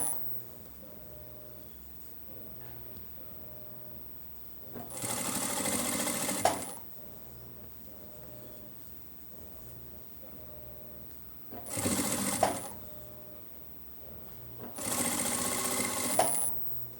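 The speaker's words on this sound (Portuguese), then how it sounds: "e vou fazer a costura" Sewing machine stitching tape onto a T-shirt collar, running in three loud bursts of steady whirring stitching separated by quieter stretches of faint low hum and handling.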